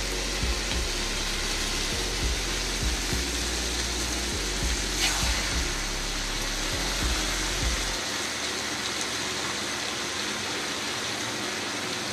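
Oil heating in a pan for a Bengali rui fish curry gives a loud, steady hiss and sizzle that runs continuously, with low rhythmic thumps in the first part that stop partway through, and no voices.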